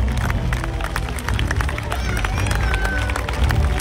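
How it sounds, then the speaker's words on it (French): Crowd at a knights' tournament at the Baillée-des-filles in Les Ponts-de-Cé claps and cheers for the horse riders: dense, steady applause with a murmur of voices throughout. "On peut les applaudir."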